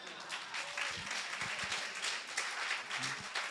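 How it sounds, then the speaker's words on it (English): Church congregation clapping together during a worship service, a steady dense wash of applause filling the space with some voices mixed in. "When you clap, don't almost clap."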